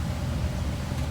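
Steady low rumble of an International DT466E rear-engine school bus heard from inside the cabin while driving at moderate road speed, a loud, continuous droning engine and road noise with no voices.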